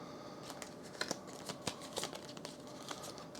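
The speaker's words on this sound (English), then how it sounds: "So we just shuffle these, we get 1 of each." A deck of game cards is shuffled close by, a quiet run of soft riffling flicks and snaps with no talk.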